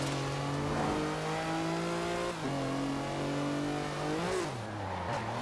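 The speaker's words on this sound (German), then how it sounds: "Boah, der Kompressor." A supercharged car engine in Forza Horizon 4 revs hard and close, the pitch holding high, dipping and rising again across the shifts, with a faint tire squeal and no voices.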